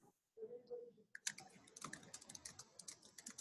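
Typing on a computer keyboard during a group meeting, a quick run of light, irregular key clicks, close and fairly faint, following a brief low hum and a moment of silence.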